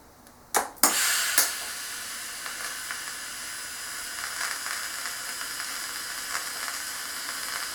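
TIG welding a stainless steel railing bracket gives a few sharp clicks and pops, then a steady, soft, close hiss that runs on alone.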